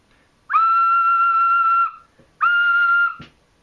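Two clear, breathy whistle-like tones from a small clay four-hole pendant ocarina, a long held note followed by a shorter one, played alone and fairly close.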